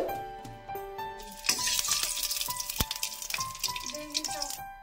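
Green chilies dropped into hot mustard oil in a wok, setting off a sudden loud sizzle that settles into crackling frying, close up, over background music.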